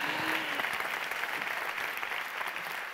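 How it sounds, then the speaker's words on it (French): A seated audience at a round-table discussion on careers in chemistry applauds steadily, a continuous wash of many hands clapping at moderate level throughout, with no talk on top. "On peut l'applaudir également."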